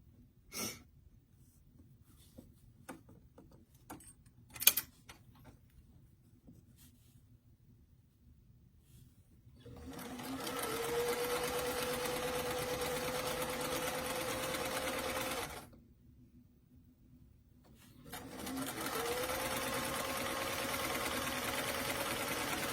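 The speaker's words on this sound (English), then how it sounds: "we're going to go ahead and sew the side back pieces of the dress to the back piece" Sewing machine stitching the side back pieces of a lined doll dress to the back piece, running in two steady bursts of about six and five seconds separated by a pause, with light handling clicks before.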